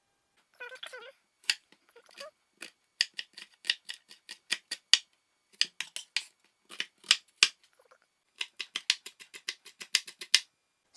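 Vegetables for callaloo are cut up with crisp, irregular snips and chops, bursts of quick close clicks separated by short pauses, alone and fairly loud.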